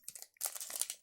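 A small plastic bag holding a reproduction game cartridge crinkles up close, in a short burst and then a denser run of rustling that fades out; no one talks.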